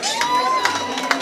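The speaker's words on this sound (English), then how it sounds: "Let's give them a cheer." A boxing crowd cheers loudly with shouts and whoops as the fighters Tony Duffy and Kyle Davies are introduced, a brief, dense burst of close, excited voices.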